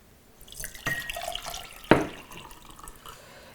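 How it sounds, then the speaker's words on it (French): A tap runs briefly as 250 ml of cold water is poured for lemon water, a short splashing pour with a sharp drop or clink in the middle before the flow tails off quietly. "Je mets 250 ml d'eau froide."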